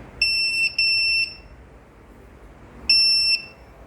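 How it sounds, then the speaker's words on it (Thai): Automatic stand-mounted thermometer sounding its over-temperature alert: two close bursts of steady high electronic beeping, a pause, then one more burst, loud and clear over quiet room noise. "อันนี้อุณหภูมิเกินนะครับสามสิบเก้าแจ้งเตือน นะครับ แจ้งเตือนอย่างนี้เลย"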